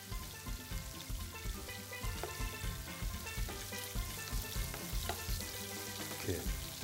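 Chicken sautéing in a pan with sliced onion and diced tomatoes, a steady, close sizzle and frying crackle with occasional stirring scrapes running throughout.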